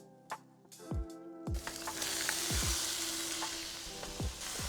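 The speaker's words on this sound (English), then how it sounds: "Once the onions are slightly brown, you can add in your ground turkey." Ground turkey and browned onions sizzle in a pan, a steady frying hiss rising after a quieter start, with several sharp low thumps and scrapes of a spatula or utensil against the pan throughout.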